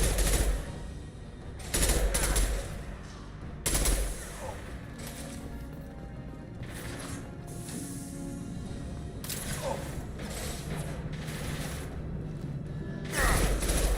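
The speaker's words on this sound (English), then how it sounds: "Firing concussive shots!" Concussive shots fired in Mass Effect 2 land as several heavy, punchy thumps spaced a few seconds apart, standing out over a steady bed of combat noise and scattered smaller impacts.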